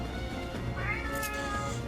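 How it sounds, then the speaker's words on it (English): Shadow the cat lets out a drawn-out, wavering meow midway through, close and fairly loud over a steady low background hum. "can you just lie down behind me and stop meowing?"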